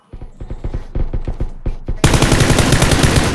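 Rapid automatic gunfire in the video game PUBG, sharp bursts of shots in a quick rhythm that swell into a dense, loud, continuous volley near the end.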